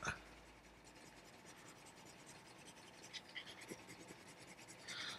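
Graphitint watercolour pencil scratching across paper in a nude figure drawing, a soft continuous rubbing scrape with a few sharper strokes, close and fairly quiet, no talking.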